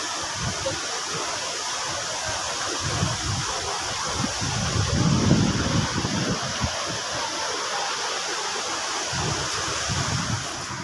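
Maranum Falls in Natividad, Pangasinan, pours as a steady, full rushing roar of cold water, constant and unbroken throughout, with no voices over it.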